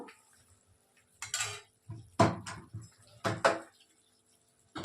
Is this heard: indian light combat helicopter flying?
no